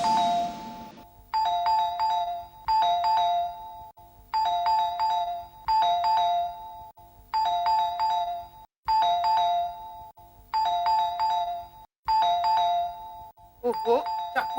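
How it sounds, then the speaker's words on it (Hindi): A doorbell rings over and over in a steady repeating chime pattern, fairly loud and clear, with a voice briefly heard at the end. "इतनी जोर से घंटी बज रही है, दरवाजा क्यों नहीं खोल रही है?"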